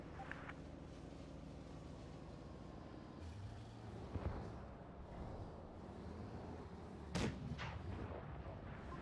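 A deep, booming tank cannon blast from an FV4005 in a video game cracks out sharply, with an earlier thud, over a steady low engine rumble and mechanical background.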